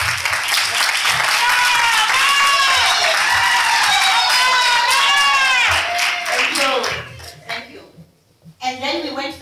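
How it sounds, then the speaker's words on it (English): A crowd applauds at a women's coffee event in Randburg, South Africa, steady dense clapping filling the room for several seconds before fading out, with a few voices rising near the end. "Let's just applaud for them."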